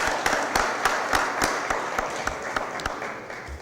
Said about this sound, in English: Let's give Pastor Wilson a round of applause for all the work that